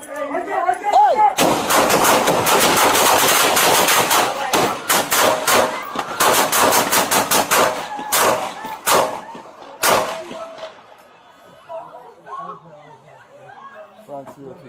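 Rapid gunfire during a real shooting incident, with dense bursts of loud cracking shots followed by a few scattered ones, then people talking and shouting as the firing stops.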